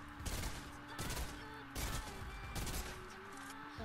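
Rapid bursts of Nerf blaster darts firing in quick succession, with a mechanical whirring and puffing rhythm that repeats several times at close range.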